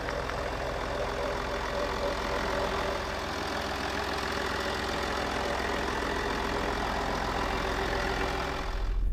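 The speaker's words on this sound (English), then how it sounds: "That's how smooth and silky this diesel sounds." A 2016 Range Rover HSE Td6 diesel engine idles smoothly and quietly at close range, giving a steady, even hum with faint mechanical ticking and no voices throughout.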